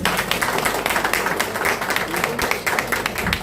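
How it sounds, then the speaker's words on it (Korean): Applause and clapping from an audience at a Korean party event for local election special committee chairs, about forty of them attending; a dense, steady patter of hands with voices mixed in throughout. "박수 한번 부탁드리겠습니다"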